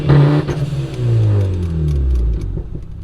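Turbo Honda Accord engine given a quick rev, a loud close roar that swells, dips and swells again before falling back to a low rumble and idle.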